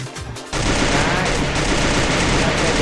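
Automatic gunfire in the Free Fire mobile shooter game, a loud, dense burst of rapid shots that starts abruptly after a brief lull and continues steadily to the end.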